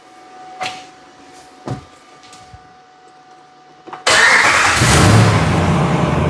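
2014 Ram truck engine cranks and fires after a few faint clicks and knocks, then settles into a loud steady idle rumble that carries to the end.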